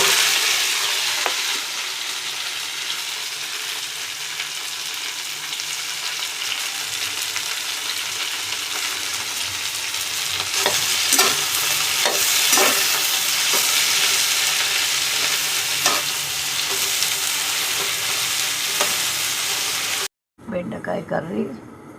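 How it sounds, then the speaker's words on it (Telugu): Sliced okra fries in hot oil in a pan for a curry, giving a loud, continuous sizzling hiss with bursts of crackling that cuts off abruptly near the end, when a voice begins speaking. "ఇప్పుడు చూడండి, ఇక్కడ నూనె వేడెక్కింది. ఇలా వేసేయాలండి బెండకాయ."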